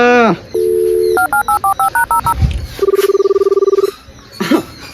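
A steady phone tone, then a quick run of about nine beeping keypad tones, followed by a long ringing tone, with a brief voice at the end.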